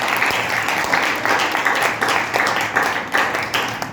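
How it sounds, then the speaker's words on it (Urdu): Audience applause at a church gathering for the Jewish feast of Passover, a dense steady wash of many hands clapping throughout, loud and close with no talking over it. "آئے یسوع کے جلال کے لیے زوردار تالیاں بجا دیجیے"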